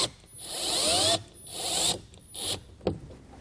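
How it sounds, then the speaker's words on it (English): Ratchet driving screws back into a K-Source flip-out towing mirror on a Dodge truck, several quick close clicking bursts in succession with short pauses between strokes. "So now we'll just reinstall the 4 screws that we had removed"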